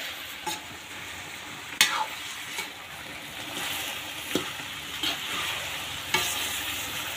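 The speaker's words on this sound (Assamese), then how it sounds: "ধুনীয়াকৈ ভাজি ল'ব লাগিব ফাৰ্ষ্টতে" Spiced meat stirred in a frying pan, a steady close sizzle broken by several sharp scrapes and clinks of the spoon against the pan, with no talk.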